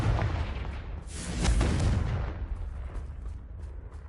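A loud booming fire-spell blast in the wizarding action game Hogwarts Legacy, a single heavy explosion swelling to a peak and then decaying into a rumbling tail.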